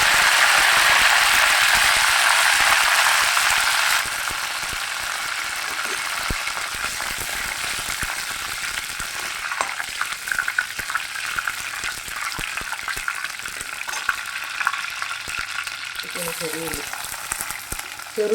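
Curry leaves sizzle in hot oil for a tuna fish curry, a loud steady crackling frying sound that starts intense and then settles into a continuous, slightly quieter sizzle with scattered pops, no talking.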